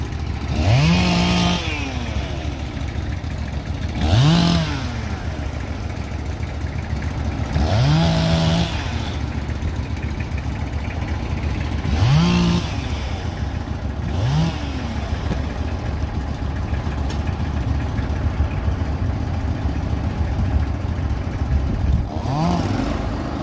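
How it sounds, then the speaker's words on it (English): A Woodmizer LT15 GO sawmill engine hums steadily while cutting a log, rising in a swelling rev about every four seconds in a regular repeating rhythm, close and moderately loud. "First log is on the mill. I'm going to clamp it up. We'll start cutting."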